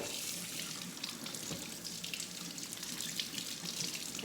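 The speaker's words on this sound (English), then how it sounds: "I'm just gonna run it under some water to loosen it a little bit" Hot water runs from a kitchen tap into a sink in a steady, faint hissing stream with soft splashing, continuous and unbroken, with no voices over it.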